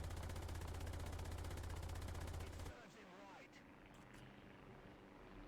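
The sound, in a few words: Ersatz M10 tank gun firing at a BF-110 in War Thunder video game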